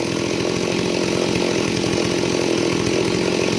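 A repaired Stihl 038AV Super chainsaw engine idles steadily up close, a loud, continuous buzzing drone with no talk over it.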